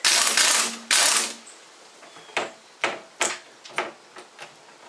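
A power tool with its torque turned down spins a nut on during a Jeep Wrangler TJ lift install. Two short, loud whirring bursts come first, followed by a series of sharp ratcheting clicks and taps, close and with no talk.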